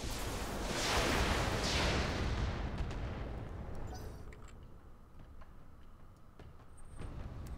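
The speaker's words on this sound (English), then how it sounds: "So let's fire on this guy." Mech weapons fire in the BattleTech mod RogueTech, a heavy booming volley with rumbling blasts up front that fades into scattered sharper impacts and crackles, with no voices.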